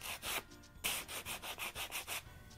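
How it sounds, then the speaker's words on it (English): Sandpaper rubs by hand along the rough, sawn edges of a piece of wood in quick back-and-forth strokes, about a dozen rhythmic close scrapes with a brief pause near the start. "You can then go ahead and sand down any of the sharp edges or splinters that might be on your wood."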